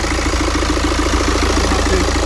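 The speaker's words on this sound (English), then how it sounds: "When the engine is working?" A BMW X3 with the N47 diesel engine idling after a timing chain replacement, a steady close, even running hum with a regular low clatter and no voices.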